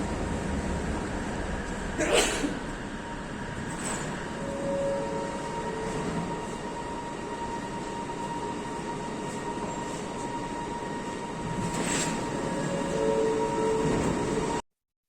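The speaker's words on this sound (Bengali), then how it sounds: "প্ল্যাটফর্ম দুয়ে আমার ট্রেন এসে পড়েছে" A train arriving at a platform in Malaysia rumbles steadily with a continuous low roar, a couple of brief metallic bursts, and a faint high tone before it cuts off.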